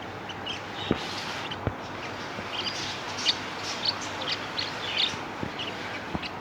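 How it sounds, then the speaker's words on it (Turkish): A parrot calls inside a pet shop, giving scattered short, faint chirps and squawks over a steady, busy background hiss and clatter. "Papağan var."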